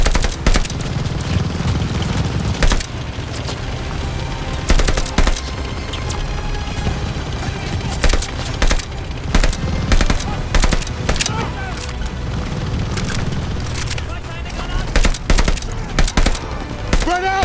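Bursts of machine gun fire crackle through a Call of Duty: Vanguard firefight, dense and loud over booms and explosions, with soldiers shouting orders above the gunfire.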